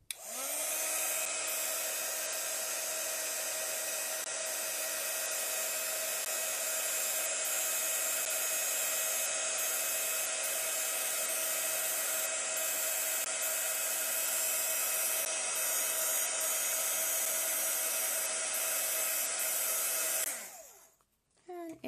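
A heat tool blasts steadily to melt embossing powder on ink, making a loud, close, unbroken whine and rush for about twenty seconds before cutting off abruptly.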